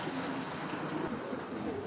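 A pair of Chinese blue shield pied pigeons, a male and a female, coo softly and continuously close by, low murmuring calls half-buried in a steady wash of background noise.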